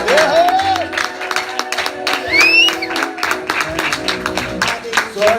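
A church congregation applauds and cheers for the Lord in a dense, continuous wash of clapping and voices, with shouts and whoops rising through the crowd.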